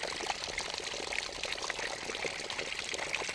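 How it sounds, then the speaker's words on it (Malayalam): Water overflows from a newly drilled borewell, a steady splashing, gushing pour heard fairly close and unbroken. "ഇപ്പം നല്ല വെള്ളമാണ്, നിറഞ്ഞ് മറിയാണ്."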